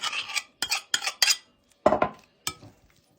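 Metal utensils scrape and clink against a bowl in short bursts as salad is mixed with a mayonnaise, sour cream and French mustard dressing, with pauses between strokes; close and clear, no talking.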